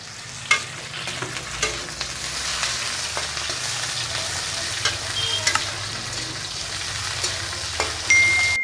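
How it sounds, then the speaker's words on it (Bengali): Bitter gourd pieces frying in a pan of oil for a Bengali dudh-posto shukto, a steady close sizzle broken by occasional clicks and scrapes of stirring, with no talk. "এবারে আমি উচ্ছেগুলোকে দিয়ে দেবো, ভেজে নেবো উচ্ছেগুলোকে।"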